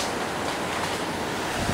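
Rising floodwater rushes under the Hartford Village bridge, a loud, continuous broadband roar of churning water close by, with no voices.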